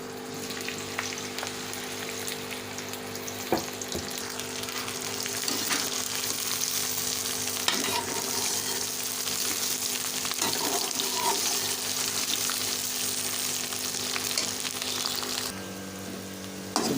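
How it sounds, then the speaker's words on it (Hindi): Okra fries in hot oil in a wok with a continuous, even crackling sizzle up close, dotted with occasional pops and clicks and a slight shift in tone toward the end. "एक कढ़ाई में मैंने ऑयल शामिल कर दिया था और इसमें ये भिंडी को फ्राई करेंगे।"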